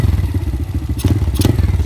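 An Icebear or Hellcat small engine idles around 1,200 rpm after carburetor tuning, a close, loud, steady putter with rhythmic pulses and two brief clattering bursts.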